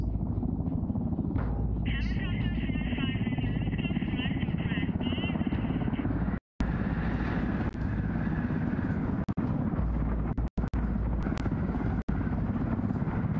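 Helicopter flying in the video game Ghost Recon Wildlands, a constant heavy rotor thrum with steady engine whine, brief dropouts, and a voice talking over it.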